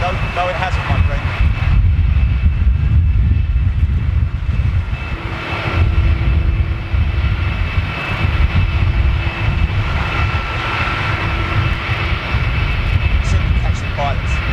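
Boeing 747 engines on its final flight, a loud continuous roar and rumble lasting the whole stretch with a faint tonal whine partway, while people talk over it at times.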